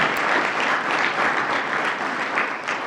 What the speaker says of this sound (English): Robert Smullen, we'll give him a round of applause